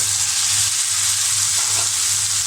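Papaya hitting hot oil with onion and panch phoron, a steady bright sizzle that holds loud and even throughout with faint stirring underneath and no voices.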